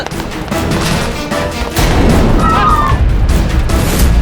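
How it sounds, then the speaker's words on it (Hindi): A gunshot sound effect in a Hindi TV courtroom drama: a loud, dense burst that thickens at about two seconds and holds steady, with a faint whining tone in the middle. "तुमने गोली चलने की आवाज सुनी?"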